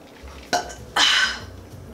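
A short burp after drinking bubble tea, one quick throaty gulp followed by a louder, longer belch, close and alone without talk.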